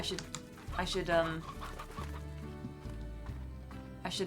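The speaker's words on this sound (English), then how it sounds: "Because there's plenty of chickens here." Chickens cluck in the Slime Rancher video game, several soft bursts over a steady musical background, fairly close with no voices.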